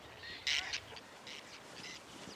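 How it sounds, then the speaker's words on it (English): Birds along the shores of Lake Nasser in Egypt give a series of nasal, duck-like quacking calls, one loud burst followed by several softer repeated calls over a steady outdoor background. "Birds have also capitalized on Lake Nasser's vast ecosystem."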